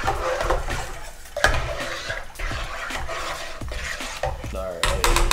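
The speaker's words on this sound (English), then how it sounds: "we're just going to give it the old stir in" Spoon stirring a yeast starter in a metal pot, giving repeated scraping clinks and knocks against the sides, close and fairly loud, with a sharper clatter near the end.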